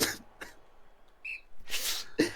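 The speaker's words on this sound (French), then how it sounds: "j'ai éternué" One person sneezes sharply and close after a quick intake of breath, with a short whistle-like tone and brief noisy bursts before it.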